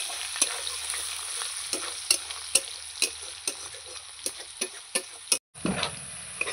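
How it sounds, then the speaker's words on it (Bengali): Onion frying in a pan with a spoon stirring it, sharp scraping taps repeating about every half second over a soft constant sizzle, close and clear, with a brief break near the end. "পেঁয়াজটা একটু ভেজে নেব।"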